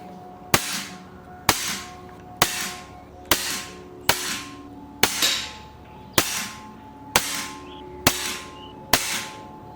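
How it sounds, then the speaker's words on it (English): An air rifle fires a ten-shot pellet group, ten sharp, loud, evenly spaced cracks about a second apart, each with a short ringing tail, and no talk. "So I'm going to start my 10 shot grouping with those first 10 pellets."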